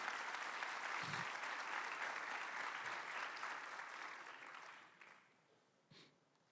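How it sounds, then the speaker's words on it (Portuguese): Church congregation applauding at a Portuguese-language service, a dense, steady wash of clapping that fades out toward the end, with a faint sniff near the close. "Pode aplaudir ao Senhor Jesus."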